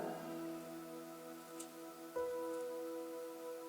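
An electric fan whirs steadily during a church service, a faint, even rushing hiss much like rain, with a low hum and a brief soft bump partway through.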